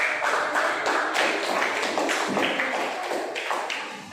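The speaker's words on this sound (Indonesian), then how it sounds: "Berikan tepuk tangan." A classroom of students applauds a group's presentation, a brisk, steady clapping from many hands close by that carries on evenly and tapers slightly toward the end.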